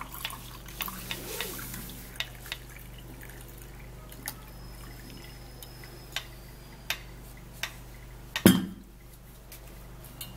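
Boiled onion and lemon water is strained through a sieve into a glass cup: scattered soft drips and light ticks, then one sharp clink of the glass near the end, all quiet and close.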